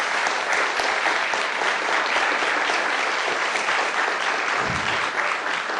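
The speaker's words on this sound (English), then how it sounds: "So I invite you to join me in giving a round of applause to our candidates and to our moderator" Sustained, dense applause fills the room at an LGBTQ city council candidate forum in Chico, a steady loud wash of clapping for the candidates and moderator with no pauses.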